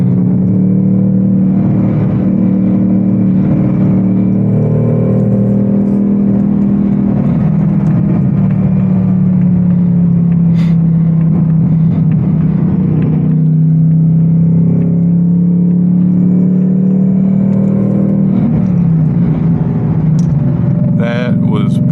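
Deep, loud engine roar from an 810 horsepower RTR Mustang GT pulling hard up to merging speed, a steady low rumble that swells and holds, with a voice talking over it.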